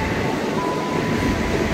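A KRL commuter line train at Tanjung Barat station in Jakarta rumbles steadily through a broad, continuous wash of rail noise, with a faint tonal whine rising briefly over the roar.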